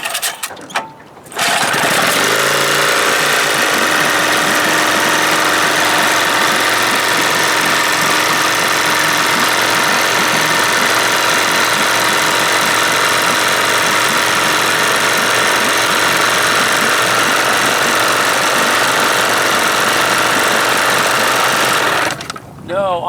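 A 1972 Johnson 25 hp outboard motor, apparently missing spark on one cylinder, roars to life after a pull start and runs loud and rough with a harsh, steady, buzzing drone for about twenty seconds before dying down.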